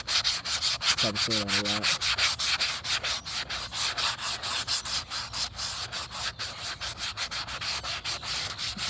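Sandpaper rubs rhythmically over the painted body of an Estes Hi-Flier XL model rocket, in fast close back-and-forth scratchy strokes that continue steadily throughout, with someone speaking briefly.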